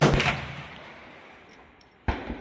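A 30-30 rifle firing subsonic cast bullets gives a loud crack that fades into a long tail, then a second sharp shot near the end.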